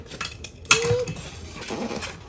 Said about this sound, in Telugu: ఇది మిక్సీ జార్ స్మాల్ జార్